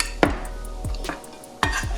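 A spoon mixing perogy dough made with flour in a bowl: several scraping, clinking strokes against the bowl in an uneven rhythm, close and moderately loud, with no voices.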